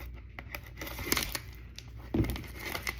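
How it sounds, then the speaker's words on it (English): Cutting into a sealed box of 1990 Pro Set trading cards, with crinkling plastic wrap, a tearing rip, and a louder rustling burst near the end, close and unvoiced. "Let's cut into our first box and let's see what we get."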